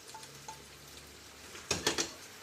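Sausage and pasta are stirred in a pan for a creamy potato and sausage pasta, with a few faint clinks early on and then a brief burst of louder scraping and clattering of the utensil against the pan.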